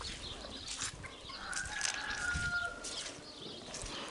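Chickens and young chicks in a coop give a mix of clucks, faint peeping and brief wing flaps, moderately close and continuous, with no talking.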